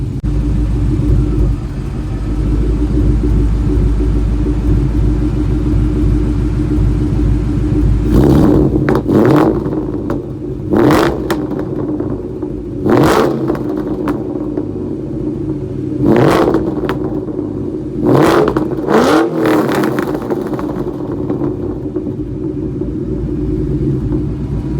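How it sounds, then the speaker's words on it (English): A Ford SVT Cobra's exhaust idles with a deep rumble, then barks through five or six sharp revs spaced a few seconds apart, each rising and falling quickly, loud and close, with no talking. "listen to the exhaust. The exhaust is decent"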